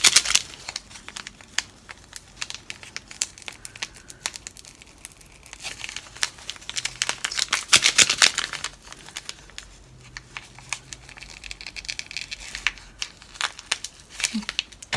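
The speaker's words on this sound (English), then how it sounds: "I'll go ahead and use the scissors." Plastic packet from a Russian individual ration being handled and cut with scissors, a close run of crinkling, tearing and snipping crackles in irregular bursts with no talk.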